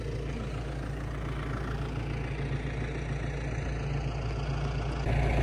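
A tractor engine idling on a farm field during alfalfa aeration work with an Aerway aerator, a steady low mechanical drone held at an even level throughout, close by and unaccompanied by speech.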